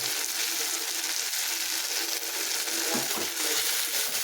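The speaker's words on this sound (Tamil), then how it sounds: "வெங்காயம் தக்காளி ரெண்டுமே நல்லா வந்து வதங்கிடுச்சு" Onion and tomato sauté in a hot pan, giving a dense, steady close-up sizzle with a few soft stirring scrapes partway through and no talking.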